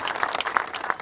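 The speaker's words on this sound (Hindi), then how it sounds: "जोरदार तालियां बजा करके स्वागत करें बहन जी का।" Crowd clapping to welcome a politician at a village reception, a dense burst of applause from many hands, close and lively, with a few sharper individual claps standing out.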